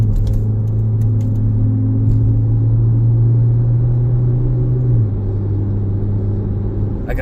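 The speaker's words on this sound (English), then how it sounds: "she's back together and ready for a road test. Giving it about half throttle." A 2014-2017 Jeep Patriot with a 6F24 transmission pulls at about half throttle on a road test, its engine a loud steady low drone heard from inside the cabin, dropping pitch briefly as it shifts.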